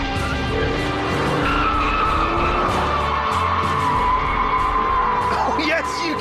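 Electric car, compared against a Ferrari 488, skidding with tires squealing: a loud, continuous screech under a steady roar of motion, holding for several seconds and shifting in pitch as the slide goes on, with some speech over it.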